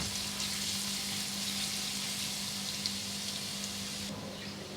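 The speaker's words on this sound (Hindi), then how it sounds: "1 टेबल स्पून ये हमारा लहसुन चॉप है, इसको हल्का सा ब्राउन करेंगे।" Steady crackling sizzle of chopped garlic frying in hot oil until lightly browned, continuous and close, with a low hum underneath and no voices.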